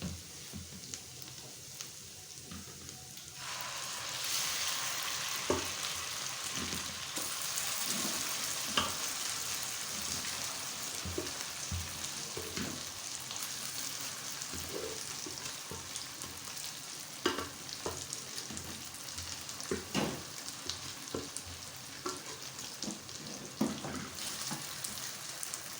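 Mashed mustard greens (sarson ka saag) sizzling and frying in a pan with garlic and ginger, a steady loud crackle with intermittent stirring scrapes, close up with no talking.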